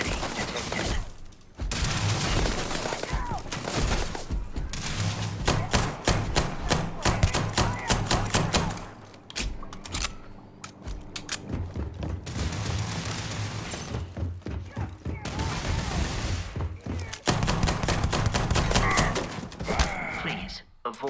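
Rapid bursts of enemy gunfire in the game Starfield, loud and dense volleys that come in waves with brief pauses, mixed with speech and thuds.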